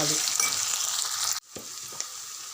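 Ginger garlic paste with spices sizzling hard in hot oil for an aloo and broad bean curry, a steady loud fry that drops abruptly partway, then resumes quieter with a few stirring scrapes.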